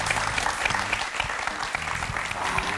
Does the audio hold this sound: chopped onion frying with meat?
no